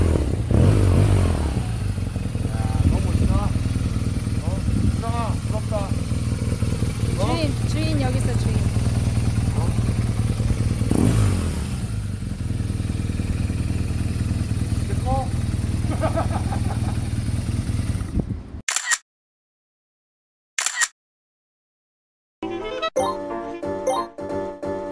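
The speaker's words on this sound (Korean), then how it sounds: "120cc 쌀집 오토바이가 아니라 1200cc 오토바이야." A 1200cc BMW motorcycle engine idles and rumbles steadily nearby while people chat over it, then the sound cuts out abruptly.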